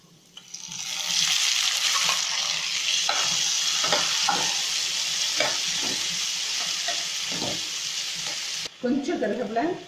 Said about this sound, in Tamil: ஒரு மூணு தக்காளி பொடியாக எடுத்து நறுக்கி வச்சுருக்கேன் அதை சேர்த்துடலாம்.